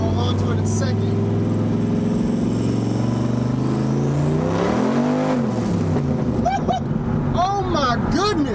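A turbo Fox Body Mustang pulls hard down the track at its first race, engine note rising steadily and loud as the tires break loose in third gear, with excited voices shouting near the end.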